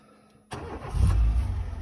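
A Dacia Logan with a 1.6 petrol and gas engine starts up: a brief cranking burst, then the engine catches and settles into a loud, steady idle close by, with no talk.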